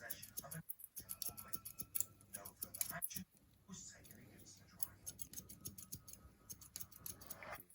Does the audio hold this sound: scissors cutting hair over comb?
yes